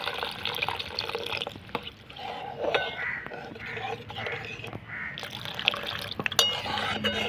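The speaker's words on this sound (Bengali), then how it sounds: "এবার আমি এর মধ্যে জল দিয়ে দেবো" Water is poured into a pan of soybean dal, a close, splashing, gurgling flow with intermittent clinks and short pauses, running steadily through the whole stretch.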